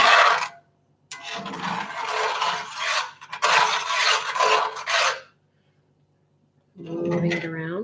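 A metal spatula rasps against a hot pan of cooking gnocchi in two long, loud bursts of scraping strokes, followed by silence and then a brief voice at the end.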